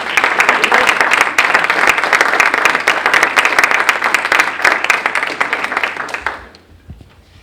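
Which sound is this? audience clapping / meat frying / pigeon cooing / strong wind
audience clapping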